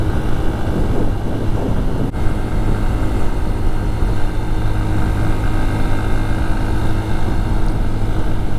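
A loud, continuous motorcycle engine drone while riding, steady and close, with wind rumble underneath and no voices.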